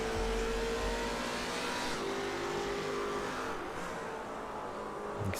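Engines of VRL Commodore race cars howl loudly around the Surfers Paradise street track as a dense, continuous roar. The pitch rises and falls as the cars accelerate through corners.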